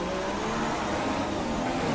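F1 race cars in the F1 2016 game at Abu Dhabi, a steady loud engine drone as cars pass close around the player, with no talk over it.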